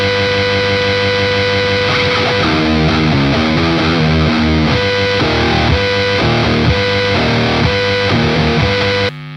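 Heavily distorted electric guitar plays loud chugging chords and riffs through an amp and PDF-1X pedal with no noise gate, with a constant buzzing hum running underneath and a hiss bed throughout.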